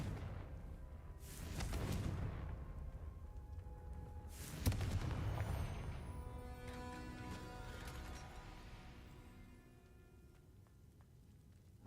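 Two booming blasts from the Confringo fire spell in a Harry Potter video game, each a sudden broadband burst with a rumbling tail, quiet and unaccompanied by talk.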